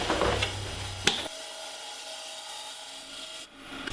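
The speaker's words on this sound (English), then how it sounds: "I'm just going to go ahead and make one more finishing cut across here and then I'll sand it" A woodturning tool makes a finishing cut across spinning wood, a close, loud, broadband scraping rasp for about a second that drops to a steady, quieter mechanical whir.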